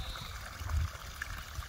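Spring water flows and trickles in a steady, soft stream close by. There are faint low gurgles and no voices.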